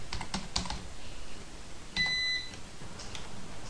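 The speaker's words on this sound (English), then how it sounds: "Sorry, typed it wrong." Light tapping on a computer keyboard during coding, a few quick keystrokes spread across a quiet room, with a brief electronic beep midway.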